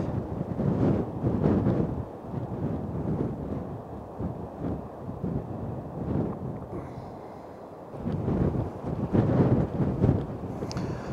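Strong sea wind gusts buffet a drone flying over the surf at Sandvík, heavy microphone rumble swelling and easing in repeated surges, loudest near the start and end.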